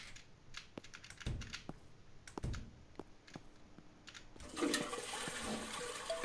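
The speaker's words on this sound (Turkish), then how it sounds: "Sifon çekin şöyle." A toilet flushes in the video game Internet Cafe Simulator, a sudden rushing water burst near the end, preceded by scattered computer keyboard clicks and taps.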